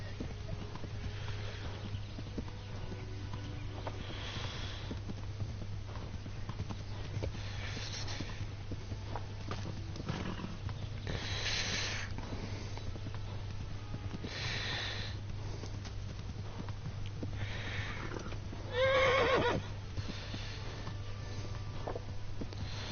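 Steady clip-clop of horse hooves in the video game Kingdom Come: Deliverance, with occasional snorts and a brief whinny, over a constant low hum and a faint voice at times.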